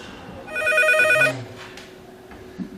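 A telephone rings once in a short electronic burst, followed by quiet room noise.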